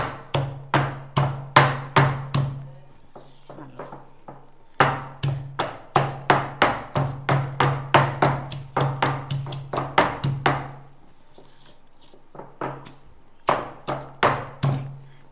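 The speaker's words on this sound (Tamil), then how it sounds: "6-7 பல்லு பூடு எடுத்து வச்சுருக்கேன். இதையும் போட்டுடலாம். இதை 1-2 இடிச்சுக்கலாம்." Six or seven garlic cloves are pounded in a stone mortar for a tomato rasam, sharp close thuds in quick rhythmic bursts, with a few short pauses between runs.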